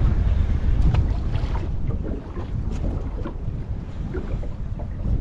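Steady wind buffets the microphone on a boat at sea during an early-morning jigging fishing trip, a continuous rough rumble with no talking.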